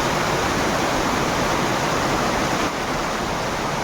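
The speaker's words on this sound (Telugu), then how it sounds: "ఇది ఇంకో వాటర్ ఫాల్ అనమాట." Waterfall in North Sikkim roaring as a steady, loud, dense wash of falling water, continuous and unbroken throughout with no voices.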